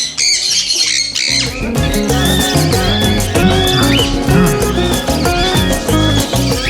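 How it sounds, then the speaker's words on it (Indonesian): A sun conure parrot squawks loudly and repeatedly, harsh shrill calls overlapping with other bird chatter close by. "Ini sankonur ini peminatnya paling banyak ini."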